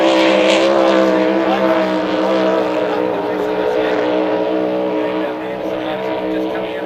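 Racing speedboat engines roar loudly and steadily as the boats come onto the front straight of a motorboat club course, with a sustained droning tone that eases slightly toward the end.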